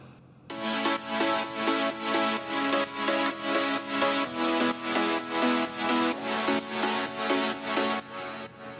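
Layered synth and piano chords from a progressive house track pulse in a steady, sidechain-like rhythm. They sound loud, bright and full, with no voices.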